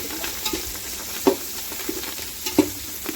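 Mint and coriander leaves are sautéed in a pan for chicken dum biryani, with a soft continuous sizzle and several clanking stirring strokes from a spoon against the pan, close by and without any talking.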